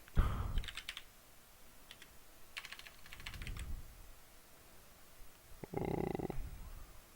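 Bursts of computer keyboard typing while entering code for a GUI script, with short clusters of rapid key clicks separated by pauses, fairly close and moderately loud.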